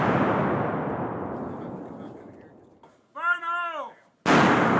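A demolition charge of cratering charges and primed C4 goes off on a range with a loud blast, and its deep rumble fades over about three seconds. A short voiced sound follows, then another sharp, loud burst at the end.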